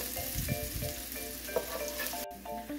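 Carrots cooking over medium heat in a pan, a soft, low, steady sizzle with faint shuffling movement and one brief knock.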